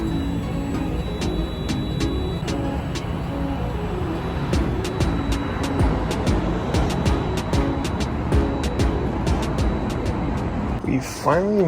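A Ford Mustang drives through heavy traffic, its steady road and engine rumble continuous throughout, with short ticking sounds scattered across and a brief handling noise near the end.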